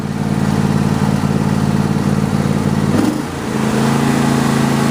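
John Deere E120 lawn tractor engine idling after a warm start, a steady loud close-up drone with a brief dip and shift in pitch near the end before settling back to an even hum.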